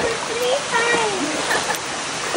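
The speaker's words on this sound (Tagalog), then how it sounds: "Whoa, there's the falls." Waterfall in a hidden spot along a forested river during a hike, a steady broadband rush of falling water filling the scene throughout, with people talking over it.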